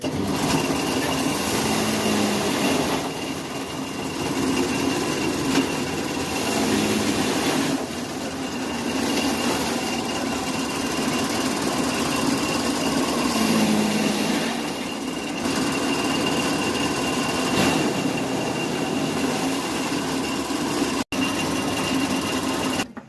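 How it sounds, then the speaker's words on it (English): A chaff cutter chops grass for silage with a sustained mechanical whir and rattle. The sound comes in repeated surges as material is fed in, runs loud and close throughout, and has no speech over it. "here is the sharp cutting machine"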